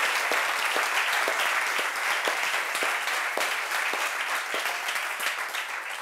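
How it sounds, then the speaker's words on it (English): Audience at TEDx Stockholm gives a final round of applause for the speakers and musicians, a dense, steady roar of many hands clapping that holds at full strength throughout. "I would like us to do one last round of applause for all the speakers and musicians that we had on stage at TEDx Stockholm"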